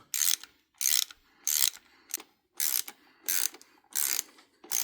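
Ratchet wrench fitted with a very long extension on a Jaguar XJS V12, working in seven rapid bursts of clicking, each about half a second with short pauses between, close and clear.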